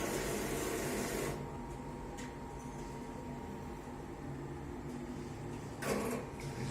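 An ATM dispenses cash abroad, giving a mechanical whir and shuffle that stops after a second, then a quiet hum and a faint clack near the end, with no talk.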